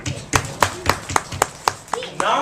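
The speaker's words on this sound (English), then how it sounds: "Round of applause for everybody." Hands clap in a slow, even rhythm, about eight distinct claps spaced roughly a quarter second apart, close and fairly loud, at a Tamil heritage summer class, with a faint voice underneath.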